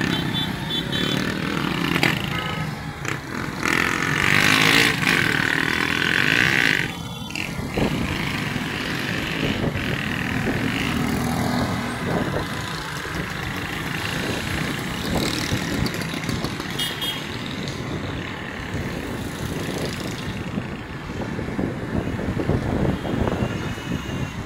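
A motorbike ridden one-handed through rush-hour traffic, its engine droning steadily and fairly loud close by for the whole stretch, with surrounding traffic noise around it.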